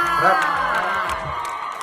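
A crowd of fans at a cosmetics brand event with two actors screams and cheers in high, shrill bursts, loud and close, with voices overlapping throughout.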